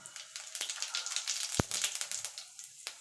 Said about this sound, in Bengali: ফোড়নটা একটুখানি ভাজা ভাজা করে নেবো।